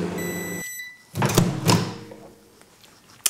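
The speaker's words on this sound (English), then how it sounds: "I'm just going to pop mine in the microwave just for a moment" A microwave oven hums briefly while heating butter, then stops, followed by its door clunking open and a couple of thuds.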